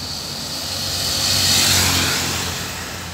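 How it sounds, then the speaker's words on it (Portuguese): Cars passing on Avenida Nilo Peçanha in Porto Alegre, a broad engine-and-tire rush swelling to a peak and fading as traffic goes by close, with no voices. "Opa, trânsito."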